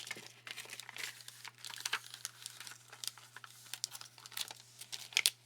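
A thin plastic sleeve in a sticker storage book crinkles and crackles softly as coffee-themed stickers are slid inside, with quiet, irregular rustles throughout and no talking.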